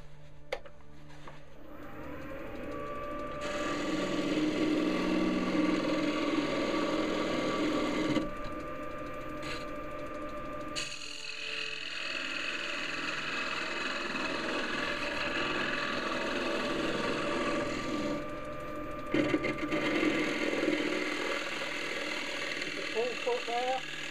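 A beech bowl spins on a wood lathe while a gouge cuts it, giving a steady whirring motor hum and a scraping, shaving hiss that run loud and unbroken through the whole stretch, with brief changes in tone as the tool shifts.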